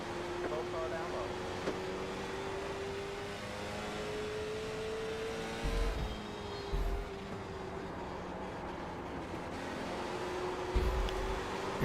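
Simulated race car engines at Martinsville in the iRacing video game drone in a steady, nasal tone that shifts slightly in pitch, with occasional low thumps, while someone talks over them.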